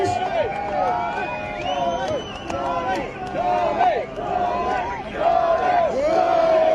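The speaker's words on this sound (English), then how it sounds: "Videos of endless crowds chanting "Charlie, Charlie" or breaking into song as they marched down London's avenues" A huge crowd marching through London's avenues chants in unison, a loud rhythmic two-beat chant repeated over and over with the sound of many voices close and echoing, backed by general crowd noise.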